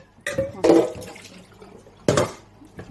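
Water draining from shredded cabbage in a home kitchen, two brief splashing bursts with softer trickling between, close and fairly quiet.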